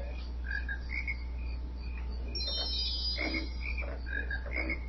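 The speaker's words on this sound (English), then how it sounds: "Oh, look, a frog." Frogs croak in a swamp level of the video game Banjo-Kazooie, giving repeated short croaks over steady game music and ambient hum, with several calls spread across the clip.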